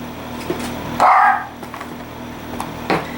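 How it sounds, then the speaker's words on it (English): A single sharp dog bark rings out clearly, surrounded by faint background noise and a few soft knocks. "My dog's going to bark. I hear him now."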